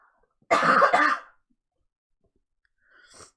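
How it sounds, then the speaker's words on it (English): One harsh, close cough in a double burst, followed by silence and a faint breath or throat sound at the end. "I have to cough again."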